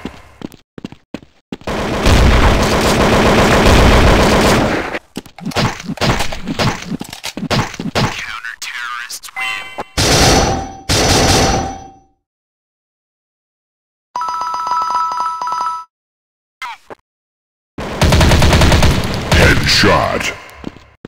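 Gunfire from the mobile shooter Critical Strike GO, with loud bursts of sharp cracks and shots coming in clusters, broken by short silent gaps and some tonal game sounds.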